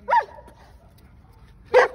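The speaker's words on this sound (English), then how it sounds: "So even hearing the dogs is setting her off." Two sharp dog barks sound about a second and a half apart, both close and loud, with near silence between them.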